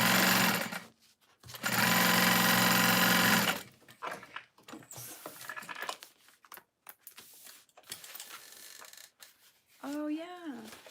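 A sewing machine stitches through satchel lining in a steady burst of about two seconds, followed by quieter handling sounds and a brief voice near the end.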